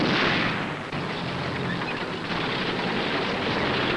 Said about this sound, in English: The Germans pin down the Russian riflemen with small arms fire